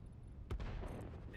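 A distant explosion rumbles once in the video game Satisfactory, a single muffled low boom in a busy, noisy background.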